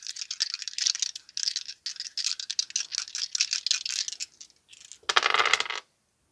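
Small dice rattle and clatter in a quick run of hard clicks for several seconds during a tarot odds reading, followed by a brief louder tumble before stopping abruptly, close and crisp.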